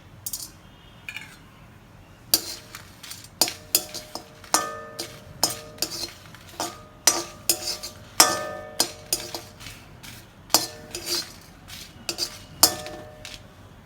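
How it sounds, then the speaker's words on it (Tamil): A utensil stirs copra, poppy seeds, cinnamon and cloves in a pan while roasting bisibelabath spice powder, giving irregular, close metallic clinks and scrapes over a quiet background without talk. "கொப்பரை தேங்காய் கசகசா பட்டை கிராம்பு எல்லாத்தையும் போட்டு வதக்கிட்டோன்னா"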